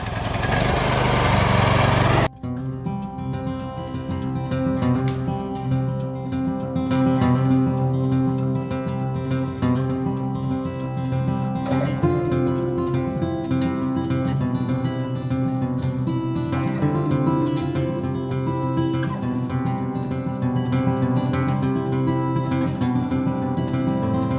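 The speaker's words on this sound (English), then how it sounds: "I need a post hole digger, and we'll drag everything down there. We'll put it in the tractor and bring it down. Pulling out the big digger." A tractor engine runs steadily, driving a post hole digger, with a loud continuous drone that holds for over twenty seconds after a short burst of broadband noise at the start.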